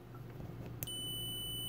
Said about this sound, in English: I'm set for continuity, so it'll just beep.